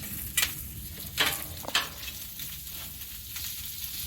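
Steak-umms cook on a 36-inch Blackstone griddle, giving off a soft, steady sizzle with a few brief louder crackles near the start, with no voices present.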